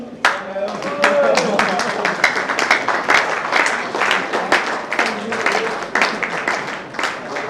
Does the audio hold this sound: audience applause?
yes